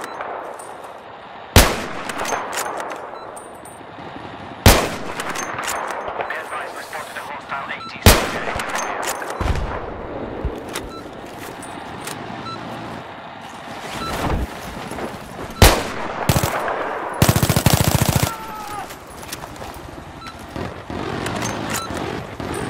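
Gunfire in the video game Battlefield 3: several sharp, loud shots and short bursts scattered through a busy battle mix, with rumbling explosions and radio-style voices talking throughout.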